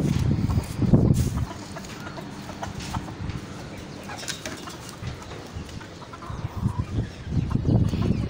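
Chickens cluck and scuffle while fighting, giving close, uneven bursts of clucking with flapping and scratching over a noisy pen.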